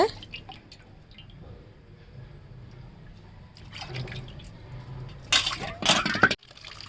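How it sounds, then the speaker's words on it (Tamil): Fish being washed by hand in plain water in a kitchen: soft dripping and sloshing, with faint clinks, building into louder splashing bursts toward the end before cutting off. "வெறும் தண்ணியில் கழுவி எடுத்து வச்சிடலாம்"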